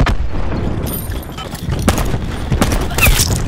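Several explosive booms and bursts from cluster grenades in Call of Duty: Black Ops 4, landing in quick succession over continuous game noise, loud and close.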